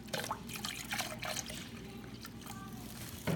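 Water poured into a brine bag, a faint trickling and gurgling stream running for a few seconds at close range under quiet background noise.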